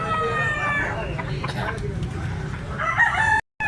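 Stag rooster, a 2.5 black-legged balibo bird at a Tabunok, Cebu sale, crows in a long harmonic call over a busy crowd of other fowl and background chatter, with another crow rising near the end before an abrupt cut.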